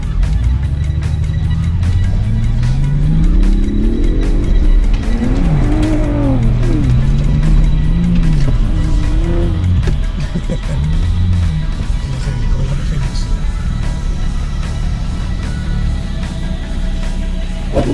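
A Ford Raptor pickup truck drives hard, with rising and falling revs, engine sweeps and some tire squeal, loud and close throughout, while voices talk over the motor noise.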